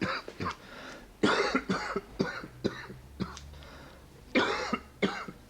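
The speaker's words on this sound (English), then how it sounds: "How long have you had that cough?" A worsening cough, heard up close as a rapid series of harsh, wet coughing bursts and throat clearing that keeps going in fits across several seconds, with no talking in between.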